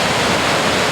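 Boulder River near Big Timber, Montana, rushing toward an underground river section, a loud, continuous close roar of churning water with no breaks or voices.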